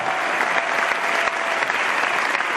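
A large audience claps loudly and continuously, a dense, steady wash of applause with no voices standing out.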